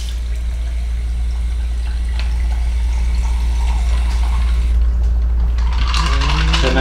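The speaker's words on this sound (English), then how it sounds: "We're going to get the cold water going here" Cold water pours over ice at an RV campground, a soft steady splashing hiss above a loud low hum, with a brighter burst of sound near the end.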